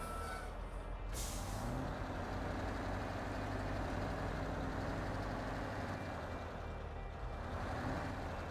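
An air brake releases a sharp hissing blast over a truck's heavy idling engine in the SnowRunner video game, followed by a continuous low, dense engine rumble.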